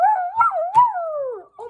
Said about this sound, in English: Oh my gosh, it's Batman's dog.